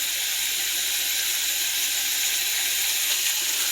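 Honey mustard chicken pieces cooking in a skillet, a steady loud sizzling hiss that stays even throughout, with no talking.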